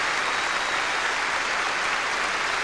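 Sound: crowd applause at Eurovision Song Contest

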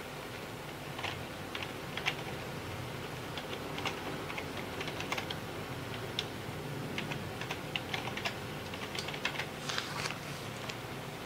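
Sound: typing an email address on a computer keyboard

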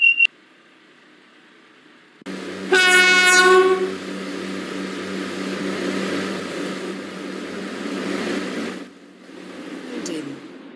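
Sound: train at platform, from Roblox game Stepford County Railway

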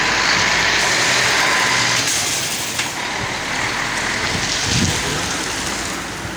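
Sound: trucks driving in Lusaka industrial area

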